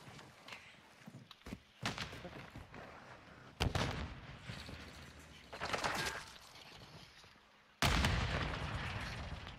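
Several loud, close explosive blasts from a grenade in a first-person shooter, punctuated by gunfire bursts and scattered impacts over rumbling game ambience.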